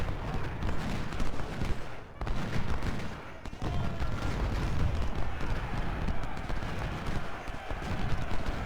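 Musket volleys in the Civil War strategy game Ultimate General: Civil War, a dense continuous crackle of massed rifle fire and battle din throughout, steady and loud, with no distinct voices.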